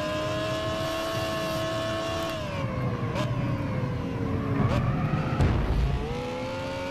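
Gran Turismo 6 race car engine whining as it accelerates through gear changes, its pitch climbing and dropping, with brief tyre squeals of a skid and a short impact-like burst near the end, all steady and close with no voices.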